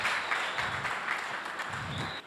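An audience at a GPTC alumni meet ceremony claps to welcome a speaker, a dense, continuous round of applause that fills the hall for a couple of seconds and then starts to fade.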